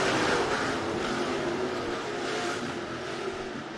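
Late model street stock cars roar past at Rapid Speedway, a dense, loud, continuous engine drone from several cars racing side by side, fairly even in level throughout.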